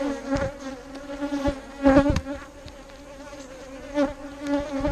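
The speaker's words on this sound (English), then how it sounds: "Now these bees, however," Calm honeybees at an opened hive hum in a thick, continuous drone nearby, with occasional louder swells and soft taps as individual bees pass close.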